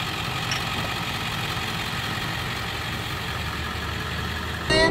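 A bus engine runs steadily while driving through a small town, a continuous mid-to-low rumble heard close and fairly loud with no talk, ending in a brief louder burst of noise.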